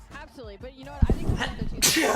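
A single sharp sneeze bursts out near the end, close and loud, right after people talking over a Call of Duty League esports watch party stream.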